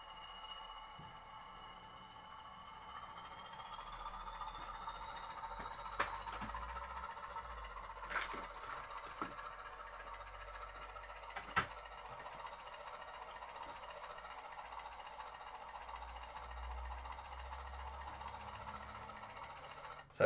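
A model railway locomotive running on a layout, quietly humming and whining at a steady pitch that rises slightly, with a few sharp clicks and ticks over faint background rumble and no talk.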